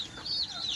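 A chicken clucks near its nests with short, bright, close calls rising and falling over a quiet farmyard background.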